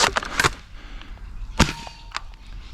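Nerf Tracer blaster fitted with a SCAR barrel from T238, firing darts outdoors: several sharp, snappy shots spaced irregularly, fairly close and loud, with faint background noise between them.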